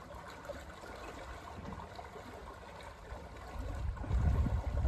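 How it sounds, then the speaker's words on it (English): A narrowboat propeller churning through weed, with soft water trickling and low splashing that swells into heavier, louder churning near the end. "A lot of splashing going on with a lot of weed over my prop."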